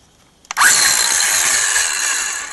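Corded power tool powered from a homemade lithium-ion pack: a click, then the motor spins up abruptly to a loud steady high whine that holds for about two seconds, close and alone.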